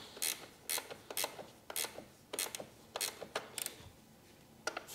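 A ratcheting wrench loosens the battery terminal bolt on a Harley-Davidson during a lithium battery install, producing short, faint, close clicking bursts in an irregular rhythm.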